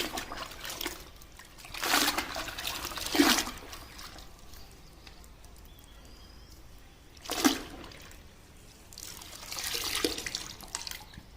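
Dirty water trickles and drips down through a towel while a car is being washed by hand, with several louder splashing bursts between quieter dribbling, close by and without talk.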